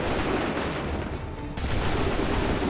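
Massed musket volley in Assassin's Creed 3, a dense continuous roar of black-powder fire from a line of soldiers, loud and sustained throughout without any speech.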